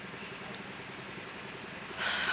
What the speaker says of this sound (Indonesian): Udah gerimis.